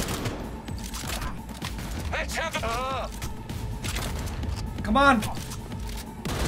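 Gunfire in the video game Cyberpunk 2077, a few scattered shots and bursts mixed into game sounds, with a player talking over the action.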